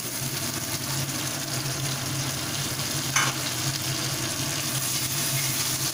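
Onion paste frying in a pan for a fish curry, a steady loud sizzle running throughout with light stirring and one brief scrape near the middle.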